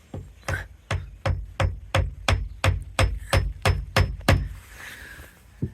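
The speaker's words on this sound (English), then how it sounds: "And a hammer." A steady series of sharp hammer blows, about a dozen evenly spaced strikes, close and fairly loud, ending with a brief rustle.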